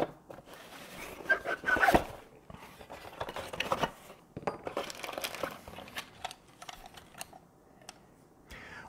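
A UniFi G3 Bullet security camera is unboxed, with crinkling plastic, rustling packaging and small clicks and scrapes coming in irregular bursts close by.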